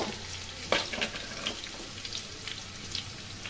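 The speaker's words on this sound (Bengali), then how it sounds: "এর মধ্যে ডুমো ডুমো করে কেটে রাখা আলু ভেজে নিচ্ছি।" Diced potatoes frying in hot oil with five-spice seeds and dried red chillies: a close, continuous crackling sizzle with a few soft stirring scrapes, with no voices.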